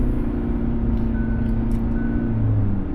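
A Kia Tasman's diesel engine revs while towing a trailer, a steady, deep rumble that swells slightly toward the end, close and continuous with no voices.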